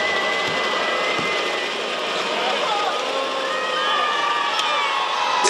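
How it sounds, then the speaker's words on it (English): A fairly quiet crowd murmurs at a basketball game between Hsinchu Lioneers and New Taipei Kings, a steady hubbub with scattered calls and squeaks under a commentator's voice. "Kind of a subdued crowd."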